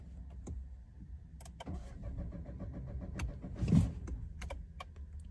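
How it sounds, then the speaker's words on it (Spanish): A Peugeot 2008 (2023) fitted with an anti-theft immobilizer is started without its code: scattered clicks and faint mechanical rustles lead to a brief starter surge midway, fairly quiet and close, with no talking. "Ahora voy a encender el auto sin la clave."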